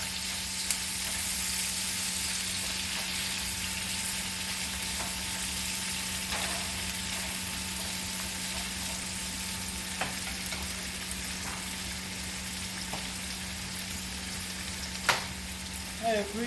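Scotch bonnet and green onions sauté in a pan for a Jamaican brown stew, a low continuous sizzle with a constant hum beneath it and a few faint utensil taps and stirs; no talking.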